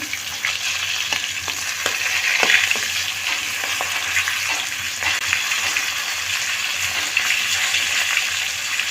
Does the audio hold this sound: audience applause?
no